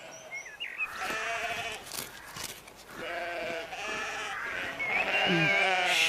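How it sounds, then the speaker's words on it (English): Sheep in a field bleat repeatedly, a series of wavering cries from several animals overlapping and following closely, fairly near, with some faint background noise. "Sheep."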